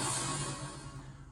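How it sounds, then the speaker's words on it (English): A loud, noisy metallic crash of a metal bin rings out and slowly fades into a dark, rumbling wash with no other sounds. "that's the sound of a metal bin."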